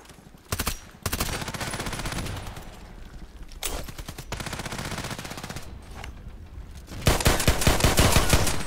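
Pistol gunshots in the shooter game Contract Wars, an H&K USP firing sharp repeated bursts of shots in quick succession, with a louder, denser volley near the end and no talk.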